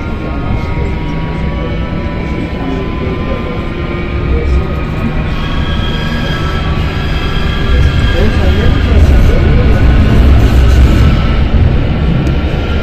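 A tram rolls through Istanbul, a loud, steady rumble with a rising hum and high squealing tones from the wheels and motors, mixed with broad noise from the street.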